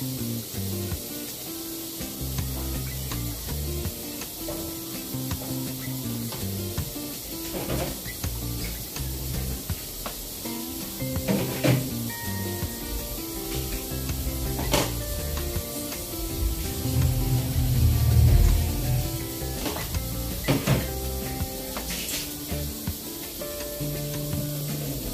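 Tilapia paksiw simmers in a vinegar broth in a pot, giving a soft, continuous bubbling hiss with occasional pops, under quiet background music.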